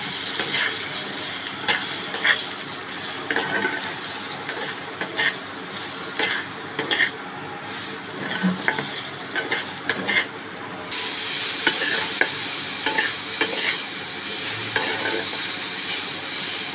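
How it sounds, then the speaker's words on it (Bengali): Eggplant pieces fry in hot oil for a fish oil chorchori dish, a steady close sizzle broken by repeated spatula stirs and scrapes. No one talks. "এবার বেগুনগুলো দিয়ে দিলাম তেলে।"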